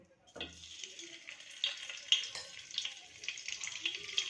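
Butter with a spoonful of oil melts and sizzles in a hot kadai, a soft, steady frying hiss that starts after a brief clatter and carries on quietly.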